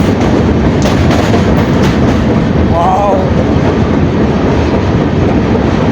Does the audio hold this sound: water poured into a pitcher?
no